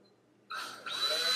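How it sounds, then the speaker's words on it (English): After a moment of quiet, a drill with a 3/16-inch bit starts up abruptly and whirs loudly, its pitch rising as it bites in, running steadily to the end. "take a drill bit, 3/16" drill bit, and drill, and put a hole right here"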